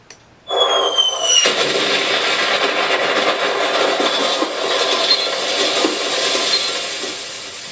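Incoming-fire battle soundtrack played by an ASP unit: a sudden loud roar of aircraft-like engine noise and distant artillery rumble that starts abruptly and holds steady for several seconds, with no talking.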